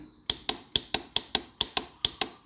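With the starter pressed on a motorcycle whose starter motor will not turn, the relay gives about ten sharp, crisp clicks in a quick steady series, close and alone, with no cranking heard.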